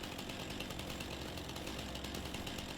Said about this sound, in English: So I'll just run around with a chainsaw running in my hands